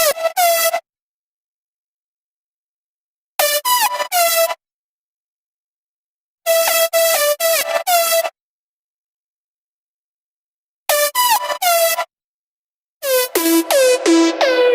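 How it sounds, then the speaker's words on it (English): Paired synth leads from an electronic dance track's drop play in short bright harmonic bursts separated by silences, loud and alone with no talking. "in the drop, we basically keep the same couple of leads"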